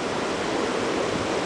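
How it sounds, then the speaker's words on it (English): Steady, even rush of a waterfall in Yosemite along the Merced River trail, a continuous broadband roar holding level and close for the whole moment with no voices. "There's a waterfall up there."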